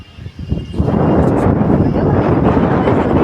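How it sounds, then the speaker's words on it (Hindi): Strong wind gusts across a rooftop, swelling in after a quiet start into a loud, constant rumbling roar of wind buffeting the microphone. "बहुत तेज हवा है, बड़ा मजा आ रही है इस हवा में"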